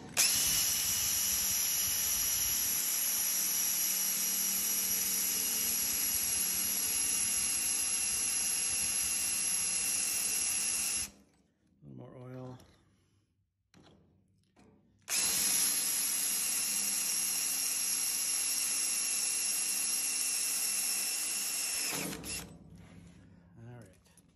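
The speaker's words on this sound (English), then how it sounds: "When you're drilling through steel, it's kind of nice to have a little lube." A power drill bores through steel lubricated with cutting oil in two long, loud, steady runs, each about ten seconds, with a short gap of clicks and handling noise between them.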